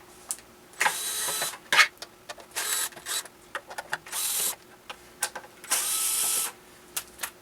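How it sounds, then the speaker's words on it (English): An electric screwdriver removes the fender bolts on a Onewheel Pint, whirring in several short bursts separated by clicks and small handling noises, close and fairly quiet. "I'm just going to use an electric screwdriver."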